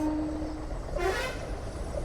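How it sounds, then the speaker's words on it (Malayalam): A train rumbles past Uthralikavu temple with a steady broadband roar, a brief horn toot standing out near the middle. "നമ്മൾ ഈ ട്രെയിൻ ഇങ്ങനെ നമ്മുടെ ഉത്രാളിക്കാവ് അമ്പലത്തിൻ്റെ അതിലൂടെ ഇങ്ങനെ പോണത്"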